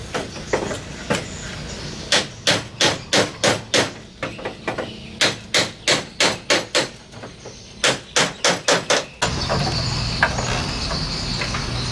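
Hammer striking a large wooden model boat under construction, sharp rhythmic blows in quick bursts of several strikes with short pauses, close and alone, ending in a steady background rumble.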